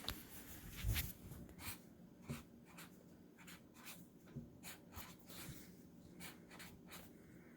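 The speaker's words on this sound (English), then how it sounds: "So I'm going to draw some flowers." Pen or marker strokes scratching across paper while flowers are drawn, a quiet run of short rubbing strokes in an irregular rhythm, close and faint, with one louder thump near the start and no talking.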